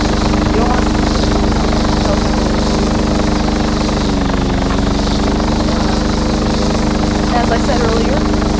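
Helicopter in the Arma 3 video game, a constant loud rotor and engine drone with a steady low thrum throughout, heard up close and alone without talking.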